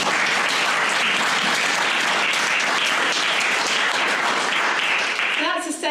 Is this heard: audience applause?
yes